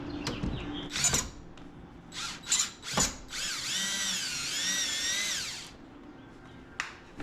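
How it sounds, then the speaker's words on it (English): A power drill backs screws out of the bottom seat panel of a 1979 Ford Bronco bench seat, with short bursts at first and then one long sustained whine with a wavering pitch, close by, followed by a quick metallic click. "I'm going to start off by removing all of these screws, holding this bottom piece on."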